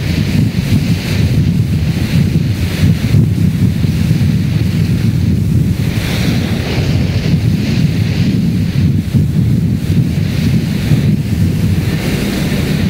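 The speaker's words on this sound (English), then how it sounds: "This is a very angry sea. This is the angry sea they talk about. Listen to it." An angry, rough sea in the Drake Passage, heard from aboard a ship: loud, unbroken rumbling waves mixed with gusting wind noise, a sustained churning roar that swells slightly in places.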